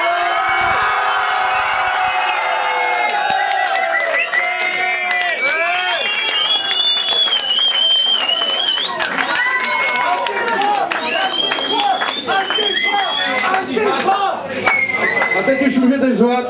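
Audience applauding and cheering at a band's debut album launch show in a Czech club in České Budějovice, dense sustained clapping with whoops and loud talk over it, crowd close and noisy throughout.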